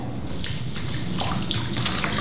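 Water poured steadily into a container holding a small boat being tested with Flex Tape, a continuous close splashing and gurgling flow outdoors, with no talking.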